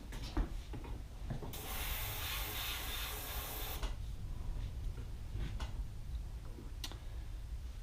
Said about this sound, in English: Here I have my airbrush